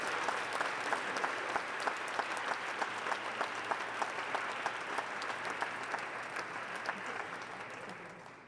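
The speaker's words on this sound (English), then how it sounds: "Please welcome them with a big round of applause." Sustained audience applause at an academy gala event, many hands clapping in a steady, fairly distant wash heard in a large hall, fading slightly toward the end.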